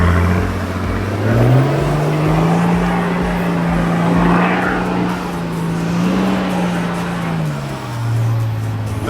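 Off-road vehicle grinding along the Old Telegraph Track in low second gear while towing a camper trailer, a steady loud engine drone whose pitch rises and falls with the throttle, close and continuous with no talk.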